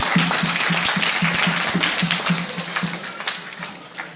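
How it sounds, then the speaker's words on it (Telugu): An audience at a Christmas skit breaks into dense, sustained applause, loud and close, with many hands clapping together and slowly thinning toward the end. "అందరూ ఒకసారి గట్టిగా చప్పట్లు కొట్టండి"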